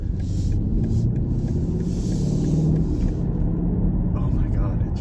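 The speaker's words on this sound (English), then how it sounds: "I love that V8 noise" A deep, steady twin-turbo V8 engine rumble from a 2023 BMW X6 M50i drones throughout, close and loud, with a faint higher whine near the end.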